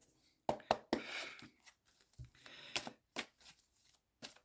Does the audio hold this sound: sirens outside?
no